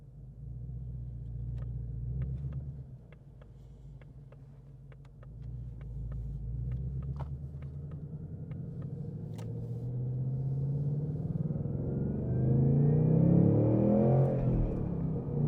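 A 2026 Mustang GT with the 5.0 V8 and manual gearbox, Performance Pack, gives a deep steady rumble while driving, with a row of sharp clicks early on and the engine note rising and swelling toward the end.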